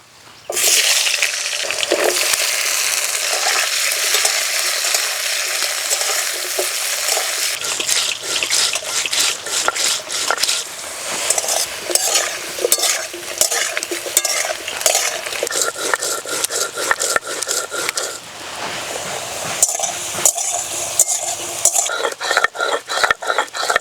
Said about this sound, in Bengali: মাছ ভাজা তেলেই আলু দিয়ে দেব।